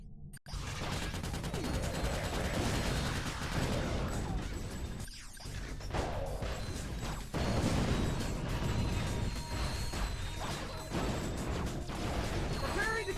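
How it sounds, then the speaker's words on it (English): Rockets fired in Ratchet: Deadlocked give dense bursts of launches, blasts and mechanical clatter layered over game sound, with one brief dropout midway. "I didn't realize I was actually shooting 3 rockets."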